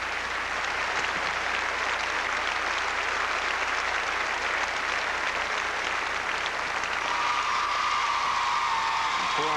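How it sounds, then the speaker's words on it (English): Crowd and fellow gymnasts applaud a triple somersault at a USSR gymnastics display, steady dense clapping filling the hall throughout, loud and continuous. "That even draws applause from his fellow gymnasts as well as the crowd."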